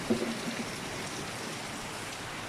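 Heavy rain pours down in an upland area of Davao, making a dense, steady hiss of falling water that stays constant throughout.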